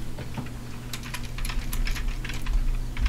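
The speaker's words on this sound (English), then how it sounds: "You will now hear the sound of my failure, along with the sound of my keyboard presses" Computer keyboard keys are pressed in quick, irregular clusters of close, crisp clicks during a game level, played alone without talk.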